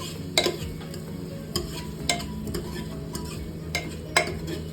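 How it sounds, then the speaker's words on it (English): Spoon stirring chicken biryani in a pressure cooker over a low sizzle of frying oil, a few separate scraping clinks against the metal pot at an unhurried pace, close up with no talking. "So now you can stir slowly because there are no chances of spilling any oil."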